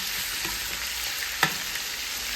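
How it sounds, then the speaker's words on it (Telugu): Chicken roasting in a pan for Mangalore ghee roast, a continuous close sizzle with stirring scrapes and one sharp pop, and no talking. "ఇది చికెన్ బాగా రోస్ట్ చేయండి."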